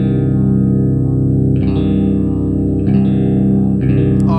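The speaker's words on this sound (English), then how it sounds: "There's like a phaser sound on this too." Electric guitar with a phaser effect playing the Hollywood theme from Vampire: The Masquerade, a loud sustained distorted tone with a sweeping swirl and repeated picked accents at regular intervals, no voices.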